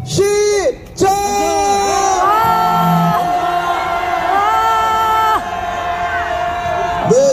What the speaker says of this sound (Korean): 함께 힘찬 함성 외쳐보도록 하겠습니다. 윤석열과 김건희를 향한 분노의 함성